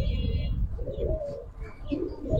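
Giribaz pigeon, a green-necked silver bird, cooing in soft low repeated phrases close by, with faint chirps and background noise.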